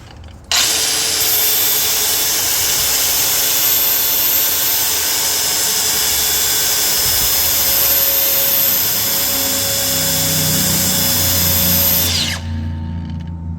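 A power grinder sharpens the teeth of a quick-attach forestry drum mulcher, a loud continuous whine with steady grinding roar running about twelve seconds, then cutting off to leave a lower hum.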